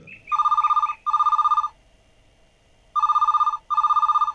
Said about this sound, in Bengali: হঠাৎ একদিন ফোন দ্বিজুদার।